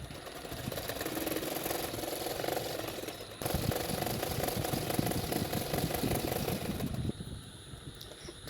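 A sewing machine stitches a sleeve onto a frock with a steady, close mechanical chatter that pauses briefly partway through, then resumes and slows near the end.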